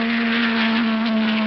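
A 1958 Ferrari racing car roars down the main straight at Spa-Francorchamps during the European Grand Prix, its engine holding a steady, loud, high-pitched drone on a dull, narrow-band old recording.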